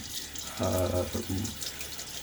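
Water from a tap runs briefly at a sink while a razor and face are rinsed during a shave, a short close splashing burst over a low steady background hiss.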